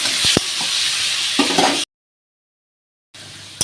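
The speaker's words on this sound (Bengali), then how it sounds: "দিয়ে আলুটা যতক্ষণ লাল লাল হয়ে না ভাজা হবে, সিদ্ধ হবে, ততক্ষণ আমি আলুটাকে নাড়তে থাকবো।" Potatoes being stirred and fried in a pan for a Bengali aloo posto, giving a steady close sizzle with a few sharp utensil clicks, then a stretch of silence before the frying resumes briefly.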